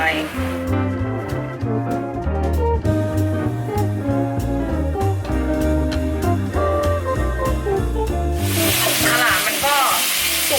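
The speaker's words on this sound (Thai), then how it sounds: "หอมกระเทียมมาเลย พอมันเหลืองแบบนี้นะคะ ก็ใส่หมูลงไป" Garlic and pork fry in a hot pan, giving a steady sizzle for the whole stretch that grows brighter and louder near the end, set against a dense tonal background.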